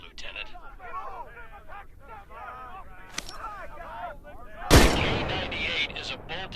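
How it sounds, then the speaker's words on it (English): In Medal of Honor VR, a K98 bolt-action rifle fires one loud, sharp shot with a booming decay after a stretch of talking, with a faint click earlier. "K98 is a bolt-action rifle, so you reload by pulling and pushing the bolt after each shot."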